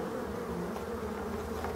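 Black bees buzz busily at their hive in autumn, a close, continuous droning hum with wingbeat tones wavering slightly, no talk over it.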